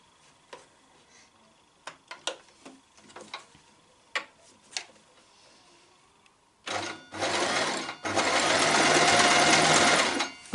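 A sewing machine runs along the edge of a drawstring PE bag in a loud, steady whir of rapid stitching after a stretch of scattered clicks and fabric handling.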